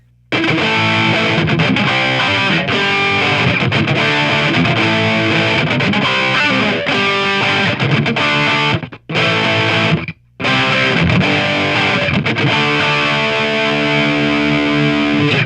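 A Firefly FFTL Telecaster-style electric guitar on an amp's overdrive channel chugs and rings out loudly and continuously, cutting out briefly twice before resuming with sustained distorted notes.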